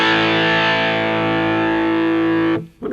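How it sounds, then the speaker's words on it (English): Electric guitar chord played through a DIY EQ pedal stacked into a distortion pedal, a thick sustained distorted tone ringing steadily for over two seconds before being cut off, followed by a brief scratchy noise. "EQ followed by distortion."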